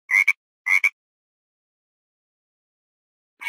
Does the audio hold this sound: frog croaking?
yes